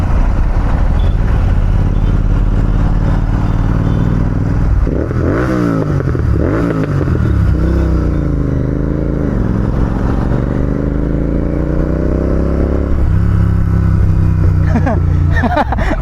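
A Royal Enfield Continental GT650 twin-cylinder motorcycle idling loudly up close, its engine blipped in a couple of revs that rise and fall before settling back to a steady rumble, with voices talking over it.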